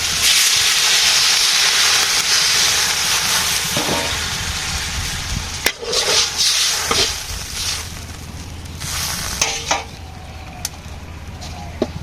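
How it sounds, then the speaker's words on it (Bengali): Broth poured onto sautéed potato, cauliflower and tomato in a hot pan sets off a loud, hissing sizzle that slowly fades to a softer steaming bubble with a few sharp crackles. "সবজি কষানো হয়ে গেছে, এখন"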